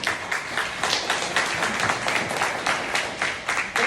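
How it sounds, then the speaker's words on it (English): A school audience at a high school for the arts claps for a speaker, a continuous patter of many hands at moderate volume with slight surges, carrying on steadily throughout. "give Miss Soliel a hand clap, please"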